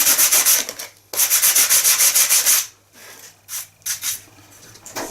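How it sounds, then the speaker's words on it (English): Close, loud rasping of sandpaper on wood in rapid back-and-forth strokes during a model aircraft crash repair, a long burst followed by a pause and a few shorter rubs. "You see here now where the sawdust, as I was sanding, filled the gap."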